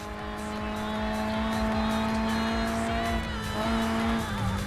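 A Toyota 4AGE engine note in a JDM racing game holds a steady, buzzy rev, with tire squeal and a small shift in pitch near the end. Electronic music plays underneath and there is no talking.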